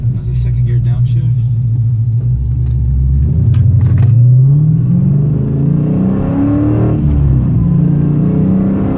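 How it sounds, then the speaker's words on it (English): A 2017 Dodge Challenger Scat Pack with a manual transmission drops into second gear, its engine note sweeping down then rising in a loud, steady in-cabin rumble as the revs change. "That's a second gear downshift."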